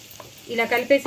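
Chili powder hitting hot oil in a tempering for cucumber and tomato dal, producing a brief crackling sizzle and frying hiss, close and fairly loud, lasting about a second.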